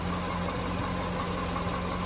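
A 2006 Corvette Convertible's engine idles in a smooth, steady, even hum, loud and close, with no voices over it.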